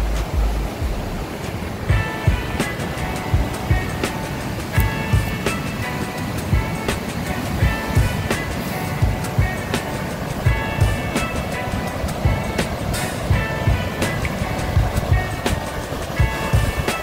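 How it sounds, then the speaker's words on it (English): Surf at Bathsheba, Barbados, roars continuously close by, a loud dense wash of breaking waves with repeated crashing surges, no voices. "let's go down on the beach"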